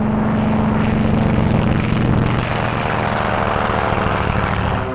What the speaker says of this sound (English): launching flight after flight of dive bombers and Avengers to pound the Jap defenses